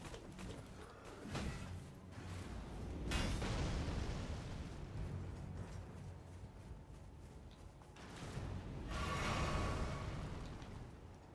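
Giant ballista firing in the video game Elden Ring, a few heavy booming blasts with rumbling tails spread across the clip, moderately loud over a continuous background ambience.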